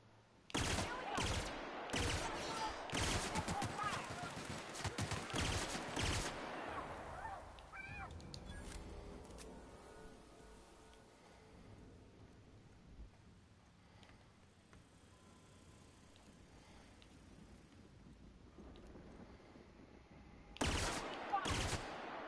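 Bursts of rapid gunfire in The Outer Worlds ring out in loud volleys at the start, give way to quieter ambient sound and faint distant noises, then return with a final sharp burst.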